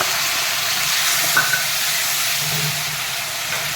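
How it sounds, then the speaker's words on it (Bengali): Onion and tomato paste sizzling in a pan of hot oil with cumin, chilli and cardamom, a continuous close frying hiss with a couple of faint clinks. "পেঁয়াজের পেস্টটা দিয়ে দেবো টমেটোর পেস্টটা দিয়ে দেবো"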